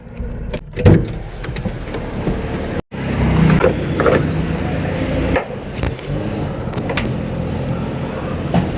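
A car being driven fills the cabin with a continuous road and engine rumble, interrupted by a few sharp clicks and one brief dropout to silence, with no talking.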